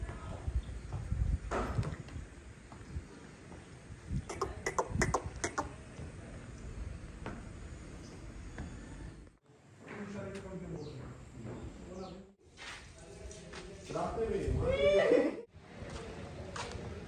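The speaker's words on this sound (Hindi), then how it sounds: "गुरुद्वारा नानकसर साहिब जी के घोड़े हैं जी" Horses at the stable of Gurudwara Nanaksar Sahib in Nanded, mares with foals, give several loud whinnies and snorts amid hoof shuffling and stable noise, with brief gaps between calls.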